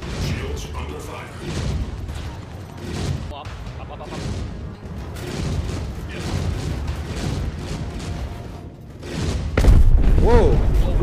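A spaceship's shields in Star Citizen take ballistic fire, with a steady run of thudding impacts and rumbling booms that grow heavier near the end, under occasional talk.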